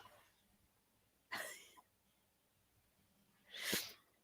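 Two sharp, breathy bursts like coughs or sneezes, the first short, the second louder and fuller a couple of seconds later, against quiet room tone with no talk.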